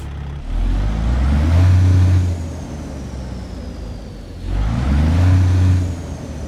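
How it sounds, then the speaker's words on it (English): Cummins X15 truck engine with a straight pipe exhaust mod in American Truck Simulator, loud and close, revving up twice with deep rumbling bursts and a rising whine, dropping to idle between pulls. "The Cummins X15 straight pipe engine mod by Jerry, which is available on the Steam Workshop"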